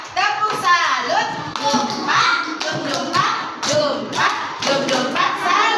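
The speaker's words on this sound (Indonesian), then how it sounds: "Kita kasih tepuk salut dulu buat semuanya." Children at a classroom lesson run through a rhythmic "tepuk salut" clap routine, quick bursts of group clapping in repeating patterns mixed with chanting young voices, close and lively.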